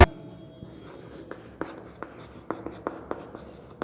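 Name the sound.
writing on a board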